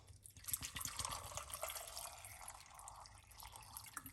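About a cup of water is poured quietly into a container for a beetroot drink, giving a soft trickling splash with a few drips at the start.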